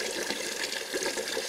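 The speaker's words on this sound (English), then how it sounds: "Fill the bucket up just to make it up to 5 gallons." A bucket being filled with cold tap water up to about five gallons, a steady loud gushing pour running without break, close by, with no voices.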